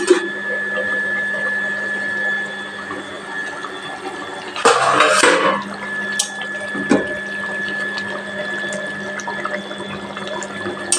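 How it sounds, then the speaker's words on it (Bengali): Katla fish curry simmers in a covered pan, giving a steady low bubbling hiss at moderate level, briefly interrupted by a louder clatter of handling the lid. "বয়েল এসে গেছে, ঢেকে হিটটা লো করে দেবো।"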